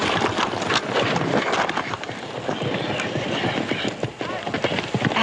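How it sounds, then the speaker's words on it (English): A horse's hooves clip-clop in a quick steady rhythm, fairly close and loud, with engine-like rumble in the background and voices talking over parts of it. "They got a little old horse over there all ready for you."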